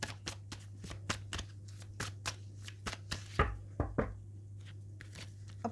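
Oracle cards of energy are shuffled and drawn by hand, giving a quick run of crisp flicking snaps followed by a few softer slides and taps, close-up over a low steady hum.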